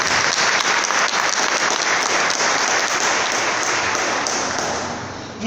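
A church congregation breaks into loud, dense applause that holds steady for several seconds before tapering off at the end.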